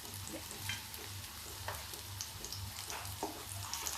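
Aloo kofta balls frying in oil in a pan, a steady bubbling sizzle with faint ladle scrapes and small crackles, close and continuous with no voices.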